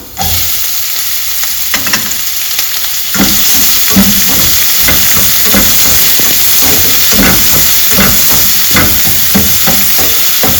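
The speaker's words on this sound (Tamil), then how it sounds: "வெங்காயம் லைட்டாக வதங்கட்டும்." Onions sizzle and fry in hot oil for coriander chutney, a steady loud hiss with scraping stirs of a spatula against the pan throughout, jumping louder after the onions drop in at about three seconds.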